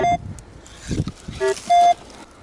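Several short electronic beeps at different pitches from a metal detector searching in the Carpathian mountains, with rustling and scraping of digging in between.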